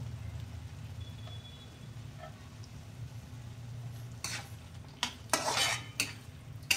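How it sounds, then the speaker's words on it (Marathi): Finely chopped tomatoes stirred into hot oil for a prawn biryani base, starting as a quiet low simmer, then a burst of clattering spoon-on-pan scrapes and sizzling toward the end, close and fairly loud. "आता आपण याच्यामध्ये टोमॅटो टाकूयात बारीक चिरलेलं."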